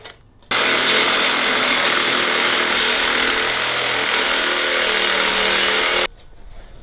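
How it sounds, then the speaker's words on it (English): A Sawzall reciprocating saw cuts into an existing fence, starting abruptly and running loud and steady for about five and a half seconds with a harsh buzzing rasp, then stopping. "get our sawzall out"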